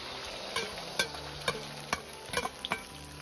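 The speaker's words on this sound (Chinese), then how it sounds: "倒入打好的鸡蛋液" Beaten egg poured into hot vegetable oil in a wok over medium heat, giving a soft steady sizzle broken by several sharp clicks and taps of a utensil, fairly quiet with no talking.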